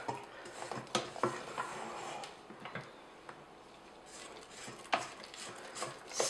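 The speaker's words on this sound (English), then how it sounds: "Scraping right to the bottom." A spatula scrapes thick vanilla cake batter around and down to the bottom of a mixing bowl, giving close, irregular scuffing strokes and small clicks against the bowl with no talking.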